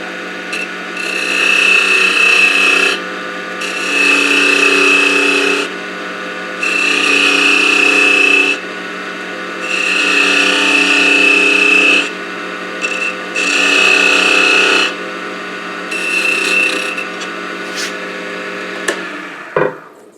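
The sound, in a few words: parting tool cutting grooves into wooden tamper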